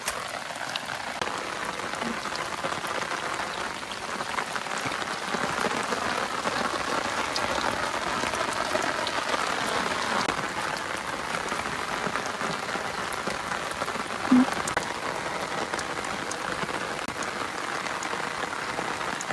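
Steady rain falls at night over farm fields, a dense continuous patter and hiss lasting throughout with one small knock partway in, and no voices.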